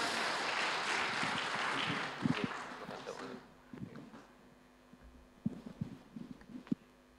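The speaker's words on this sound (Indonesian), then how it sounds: "Boleh kasih tepuk tangan bersama-sama?" A church congregation at Sunday worship claps to welcome the pastor in a dense wash of applause that fades out after a few seconds. Scattered thumps and murmuring voices follow in a quieter hall.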